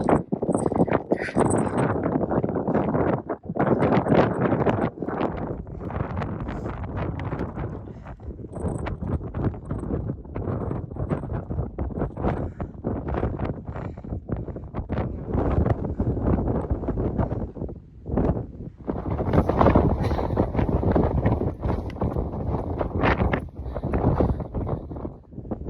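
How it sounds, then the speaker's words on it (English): Strong gusting wind buffets the microphone on a mountain summit in the White Mountains of New Hampshire, a loud continuous roar that surges and dips over the length of the clip, with a few brief dropouts. "It's so windy."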